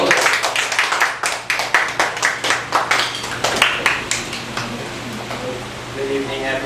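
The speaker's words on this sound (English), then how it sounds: "give him a round of applause" Audience applause at a Toastmasters club meeting, a dense run of many hands clapping at moderate loudness for several seconds, thinning and fading toward the end as a voice begins to speak.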